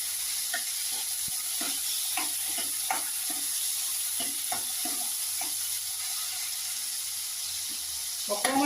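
Tomato is stirred into hot oil in a pan while cooking a taro and fish curry, a continuous close sizzle with irregular scraping strokes of a spatula.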